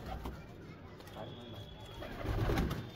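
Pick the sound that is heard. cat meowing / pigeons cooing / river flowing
pigeons cooing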